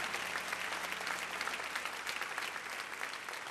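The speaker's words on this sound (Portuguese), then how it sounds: "Vamos aplaudi-lo." A church congregation applauds during a Portuguese-language sermon, a dense, sustained wash of clapping at steady loudness throughout, with no pause or clear voice above it.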